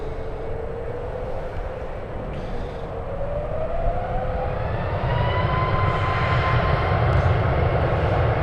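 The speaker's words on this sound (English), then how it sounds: "Aeromexico, flight 669 off to Mexico City. Taking off right now on runway 1 left." An Aeromexico airliner bound for Mexico City takes off from runway 1 left at San Francisco. Its jet engines roar loudly and steadily as the pitch rises into a climbing whine, heard alone without talk.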